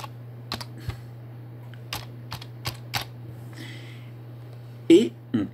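Password characters typed on a computer keyboard come through as a few separate, fairly close key clicks spread across the moment over a steady low hum, and a louder clattering burst of keys closes it out.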